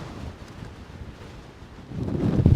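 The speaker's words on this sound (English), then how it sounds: "getting battered by the wind" Strong gusting wind on an exposed Scottish mountain pass, a steady low roar buffeting the microphone that swells louder and rougher in the final second.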